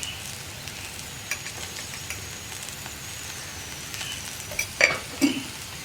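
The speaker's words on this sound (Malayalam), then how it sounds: "അതുവരെ നമ്മളൊന്ന് ഇടയ്ക്കിടയ്ക്ക് ഇളക്കി കൊടുത്തുകൊണ്ടിരിക്കുക" Okra and onions fry softly in a pan with a low, steady sizzle, broken by a few scraping stirs and light utensil knocks near the end.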